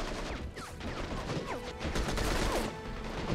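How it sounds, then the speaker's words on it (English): Rockets exploding in Call to Arms, a continuous barrage of overlapping booms and whistling streaks that build toward the end, dense and loud with no talk. "Oh, rockets! Left, right, and center."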